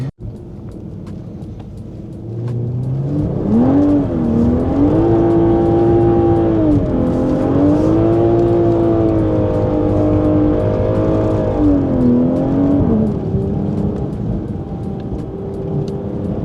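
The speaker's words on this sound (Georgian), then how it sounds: "მე ამ მანქანის ხმაც ძალიან მომწონს." A Toyota Supra Mk5 fitted with an aftermarket exhaust revs up loud and close after a quieter idle, its engine note rising, holding high, dipping and climbing again in smooth sustained sweeps.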